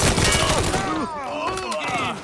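Gunfire in the video game Mafia III crackles in a loud, dense burst of rapid shots while someone talks excitedly over it.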